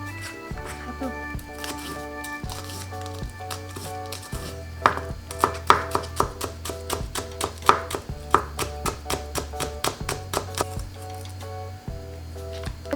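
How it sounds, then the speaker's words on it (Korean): A knife finely minces garlic and red and green chili peppers on a cutting board, a quick steady run of sharp, close taps that speeds up and loudens midway, with faint background music underneath. "홍고추, 청고추 다 다져주세요."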